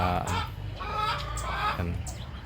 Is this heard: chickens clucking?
yes